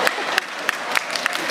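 Crowd at the grand opening of the Japan Cup cycling event in Utsunomiya clapping and cheering, a brief burst of scattered, crisp claps at a moderate pace under a noisy ambience.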